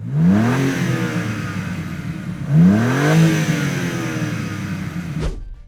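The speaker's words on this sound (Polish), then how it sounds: "Zwiększ obroty jeszcze raz." A four-wheel-drive car's engine revs twice, each a loud, rising whine that climbs and then falls back to idle. A sharp clunk follows at the end.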